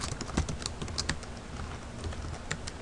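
A phone number keyed into TeraCash 2011 accounting software on a computer keyboard: quick, uneven bursts of close key clicks with short gaps, no voices.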